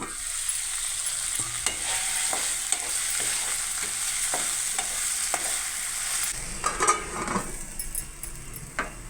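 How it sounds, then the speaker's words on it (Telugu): Dal and masala frying in a pan, a steady sizzle broken by repeated spoon scrapes and light clinks against the pan as it is stirred, busier toward the end, no voices. "మళ్ళీ ఒకసారి కలుపుదాము"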